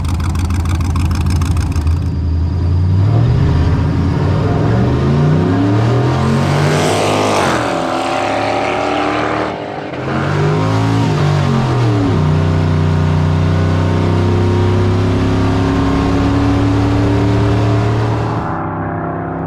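A 5.0 turbo-swapped Ford Ranger roars loudly through a drag strip pass, its engine note climbing through gear changes with a brief dip before pulling hard again, then fading away.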